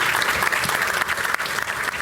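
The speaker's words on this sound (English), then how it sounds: "Let's have a massive round of applause for a volunteer" An audience at a magic show gives a volunteer a big round of applause. The clapping is dense, steady and loud from start to finish, with no talk over it.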